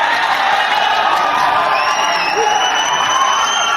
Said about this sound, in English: Crowd coming to life.